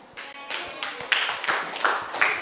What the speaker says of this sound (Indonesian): Yaudah Ikram, tepuk tangan untuk Ikram.